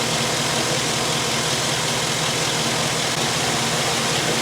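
Engine of a 2010 Chevy Silverado pickup idling while warming up after an upper radiator hose replacement, a steady close rumble with a constant hum and no talking.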